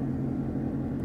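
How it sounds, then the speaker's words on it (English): A car engine running on E85 fuel after a spring cold start, a steady low idle rumble heard close and alone for about a second. "The car sounds phenomenal"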